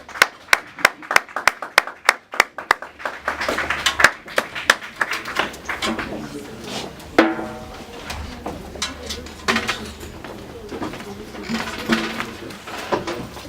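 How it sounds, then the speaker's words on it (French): Audience at a Christian gala dinner clapping to welcome arriving preachers: rhythmic hand claps at the start, then mixed applause and crowd noise with voices underneath. "Est-ce qu'on peut acclamer les hommes de Dieu qui arrivent?"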